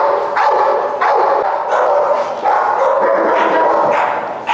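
A reactive dog barks repeatedly at other dogs during a dog training seminar, a loud close series of sharp barks and yips spaced roughly every half second to second.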